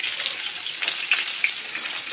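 Drained rice goes into a pan of hot ghee where cashews and raisins have just fried, giving a close, steady frying hiss with a few small pops and crackles throughout.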